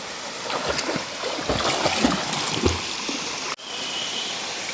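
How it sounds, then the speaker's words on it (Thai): Khlong Kaew waterfall in a national park in Bo Rai, Trat, pours as a steady, close rush of falling water, with splashes and faint voices mixed in and a brief dropout near the end. "น้ำตกอุทยานน้ำตกคลองแก้วนะคะ"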